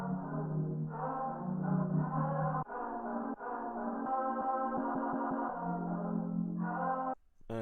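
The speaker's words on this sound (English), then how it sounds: "different little glitches and stutters" A looped beat sample breaks into glitch and stutter effects, with choppy repeated fragments, sudden cuts and echoing distorted bursts shifting every second or so, moderately quiet and without any voice.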